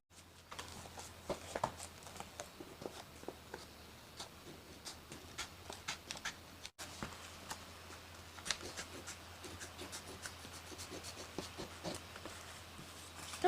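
Paper is cut with scissors for a cardboard rescue boat craft project, giving a run of dry, irregular snips and ticks that continue throughout, close and fairly quiet, with no speech.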